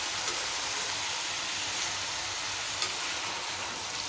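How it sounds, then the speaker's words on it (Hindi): Pumpkin sabzi sizzles steadily in a pan as it is stirred, a constant frying hiss with faint scraping touches and one small clink, fairly quiet and with no talking. "इसे अच्छे से हम चला लेंगे।"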